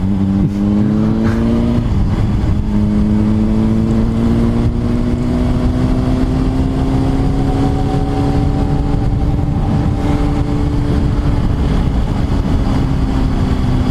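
A 2005 Honda CBR600RR motorcycle engine accelerates in a steady, loud, rising drone, its pitch climbing smoothly through the gear with constant wind and road noise, no talking.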